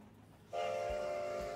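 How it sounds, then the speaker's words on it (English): A train in a building video game starts up after a half-second pause and runs on steadily, with a loud sustained horn-like tone and a rumbling rail drone, and no talk over it. "You should stop inside of the train"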